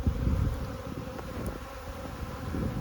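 Honeybees from a queenless hive fly close around, a steady, dense buzzing drone filling the space throughout with no talking.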